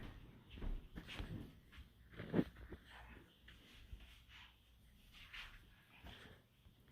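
A small chihuahua whimpers and whines faintly indoors, in short irregular bursts spread over several seconds, with a quiet background behind it.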